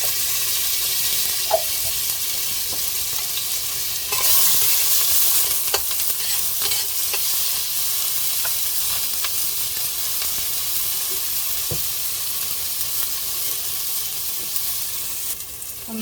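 Onions and garlic frying in a pot for a pumpkin curry, a steady bright sizzle with occasional stirring clinks, louder after a few seconds and continuing alone without talk.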